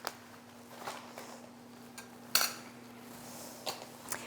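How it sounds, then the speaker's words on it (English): A spoon stirs ground beef chili in a metal pot, giving scattered clinks and scrapes against the pot with one sharper knock, set against a low steady hum. "We're going to give this a nice stir."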